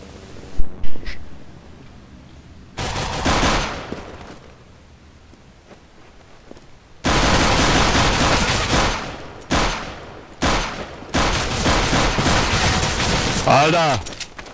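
Gunfire in Counter-Strike: Global Offensive, sharp bursts of in-game shooting at close range, loud and dense across several stretches, with quieter gaps and voices talking between the volleys.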